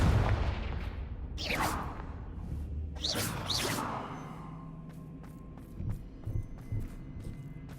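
A Confringo blasting spell cast in the Hogwarts Legacy video game: two rushing whooshes burst into fiery blasts, loud and close, then fade into a softer rumble with a few light clicks and taps.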